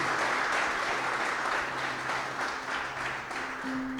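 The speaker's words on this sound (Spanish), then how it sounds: "Dale un aplauso al Señor en esta mañana." A church congregation bursts into steady applause during a Spanish-language service, warm sustained clapping from many hands across the room, with a faint low tone underneath.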